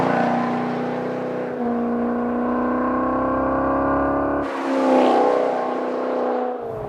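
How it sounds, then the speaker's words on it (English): A 2013 Maserati GranTurismo in manual mode sends a deep, rich exhaust note through open valves. The engine holds steady, then revs up sharply before settling back, close and loud, with no talk over it. "You slide it in manual mode, and the exhaust opens up, and you just get a deeper, rich tone."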